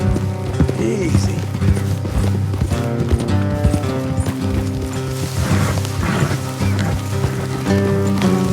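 Horse hooves clip-clop steadily at a trot in Red Dead Redemption 2 over a dense layer of music and ambient sound, loud and continuous.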